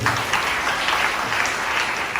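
An audience at a talk breaks into steady applause, with many hands clapping evenly and close throughout.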